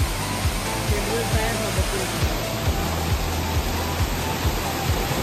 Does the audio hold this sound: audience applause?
no